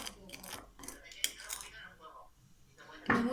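Glitter slime is stirred in a bowl, making soft, irregular wet squishes and light clinks close by, then a brief louder scrape near the end.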